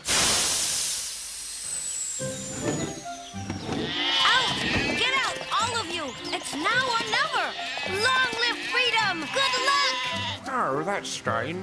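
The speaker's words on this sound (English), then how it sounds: "My lambs! My lambs are escaping!" Lambs bleating over and over, a lively chorus of close, high wavering cries with a few hoof clops mixed in, after a short hiss at the start.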